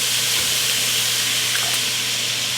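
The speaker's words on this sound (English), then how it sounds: "Then we're going to let that sear cook for a little while." Meat sears in a pot with paprika and chicken stock, a constant broad hissing sizzle that holds steady and loud throughout with no break.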